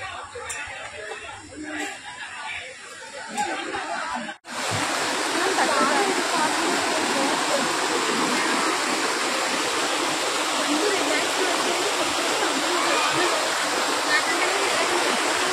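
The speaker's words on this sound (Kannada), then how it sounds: "ಇವಾಗ ನಾವು ವಾಟರ್ ಫಾಲ್ಸ್ ಹತ್ರ ಹೋಗೋಣ ಅಂತ ಡಿಸೈಡ್ ಮಾಡಿದ್ವಿ." A waterfall and rushing stream roar as a loud, constant wash of water, with faint voices and laughter mixed in at the start before the water noise takes over.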